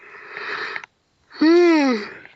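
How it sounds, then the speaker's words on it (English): A man lets out one huge, drawn-out yawn, close and loud, rising and then falling in pitch, right after a short breathy, noisy stretch and a brief pause. "just got a huge yawn"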